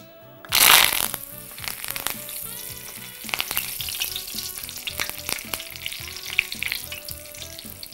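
Curry leaves hit hot oil with a sudden loud hiss, then crackle and sizzle steadily with small pops, close by.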